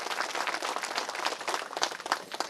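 A Christmas-sermon audience at a church parish claps together in a dense, steady burst of applause, many hands close to the microphone and sustained through the whole moment with no voices.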